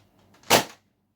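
A Nerf Rival Kronos spring blaster fires a single sharp, loud pop with a short airy burst, close to the microphone, with brief quiet before and after.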